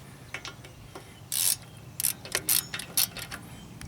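A ratchet loosens a brake caliper bolt on a 2000-2007 Ford Taurus during a rotor job, making several short, close bursts of rapid clicking separated by brief pauses.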